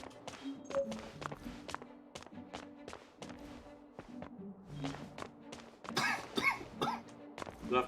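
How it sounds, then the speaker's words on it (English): A person coughs repeatedly in short, sharp bursts with some throat clearing, close to the microphone and alone, while footstep-like thumps and taps are scattered throughout. "You'll have to forgive my coughing."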